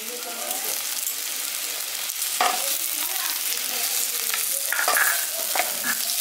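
Potatoes and lightly browned onions frying together in a pan for a village-style brinjal potato masala, a loud continuous sizzle with scraping stirs of a spatula over it.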